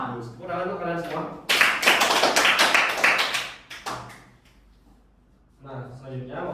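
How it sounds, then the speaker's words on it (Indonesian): Schoolchildren in a fourth-grade classroom clap together in a loud, brisk burst of hands for a couple of seconds, framed by a teacher's voice talking before and after. "Tepuk tangan untuk kalian semua."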